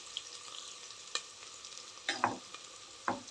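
Green chillies stirred into sago and potato khichdi frying in a pan, soft sizzling under a few sharp scraping clinks of a spoon against the pan, sparse and quiet.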